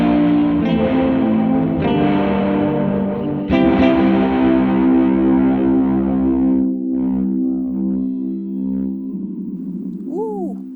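Electric guitar run through an Alexander Space Force reverb pedal, sustained chords washed in lush, distorted reverb that swells and slowly decays, with a gliding pitch sweep at the end.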